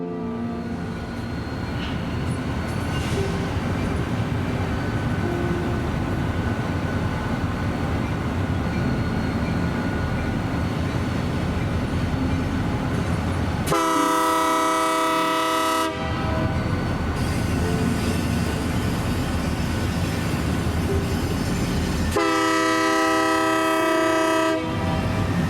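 A Union Pacific transfer freight train rolls steadily past near Kansas City with a continuous rumble and wheel clatter, as two long, loud horn blasts sound partway through, with no one speaking.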